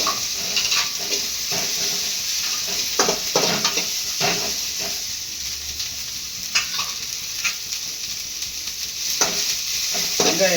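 Onions and dried red chilies sizzle steadily in hot oil in a pan, with a constant frying hiss broken by repeated scraping strokes of a spoon stirring them, close and without talk.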